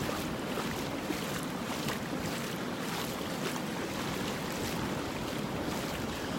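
Ocean waves wash steadily onto a Gulf beach in North Naples, Florida, forming a continuous broadband roar with wind noise, close and unbroken, with no voices.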